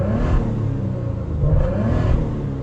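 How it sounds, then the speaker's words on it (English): A Maserati Ghibli S in sport mode rumbles through its exhaust, the engine note rising and falling in two revving swells, loud and close with no talking. "The exhaust, listen to that."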